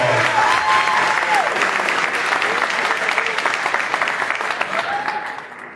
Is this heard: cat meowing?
no